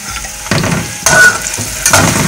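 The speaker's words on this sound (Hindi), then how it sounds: "अब मैं इसके अंदर ये कटी हुई अदरक डाल रही हूँ।" Chopped ginger drops into garlic frying until light golden in a pan for a pickle, giving a loud sizzle with three bursts of stirring scrapes close by and no talk.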